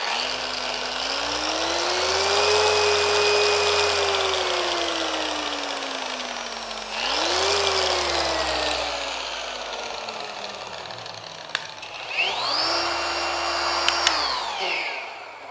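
Rupes corded polisher motor whirring steadily and loudly, its pitch rising and falling as it steps through several speed settings, with a brief pause before spinning up again near the end.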